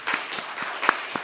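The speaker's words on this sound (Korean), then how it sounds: "박수 한번 해주시죠" A church congregation at an Easter Sunday service claps in welcome. The applause is sparse and moderately loud, with a handful of distinct claps spread over about a second rather than a dense ovation.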